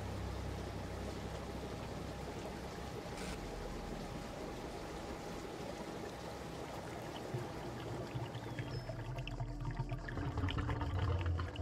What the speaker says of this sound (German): Da läuft das Wasser ab.